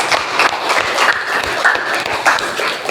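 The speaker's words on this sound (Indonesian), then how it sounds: "kita beri aplaus untuk kelompok 5" Applause for group 5 at a university teacher-training class session in Medan, a steady wash of clapping from a room of students, fairly close and continuous for a few seconds with no talk over it.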